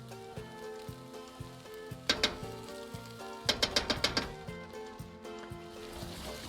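Tomato paste fries with tomatoes and onions in a pan, a faint, steady sizzle broken by clustered clicks and taps from stirring.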